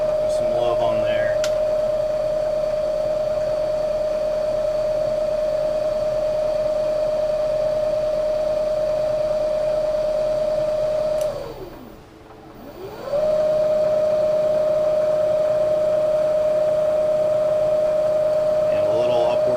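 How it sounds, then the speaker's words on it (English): A motorized base for a Kreg K4 pocket hole jig runs at 120 RPM with a steady mechanical hum, briefly stopping and spinning down before starting up again and settling back to the same even tone. "So this is 120 RPM now."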